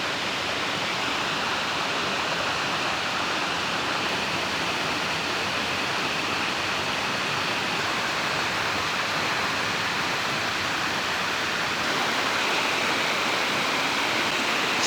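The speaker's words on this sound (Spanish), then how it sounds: "Esta es una de las quebradas que" A mountain stream, a quebrada running off Cerro Algodón toward Río Cubíbora in the Ngäbe-Buglé comarca, rushes in a steady, dense broadband wash of flowing water that stays close and constant throughout, with no voices.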